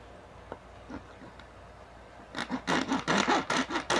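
After a few faint knocks, a hand saw starts rasping back and forth through plastic in quick, even strokes, close by and fairly loud.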